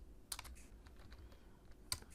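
Close, quiet computer keyboard typing: a few sharp isolated key clicks with soft tapping in between, heard alone without talk.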